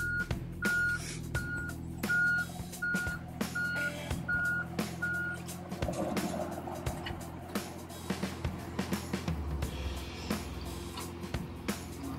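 A John Deere 17G mini excavator lifting a big log beside a rocking truck, engine rumbling steadily with a regular reversing beep for the first few seconds and clunks of strain and movement.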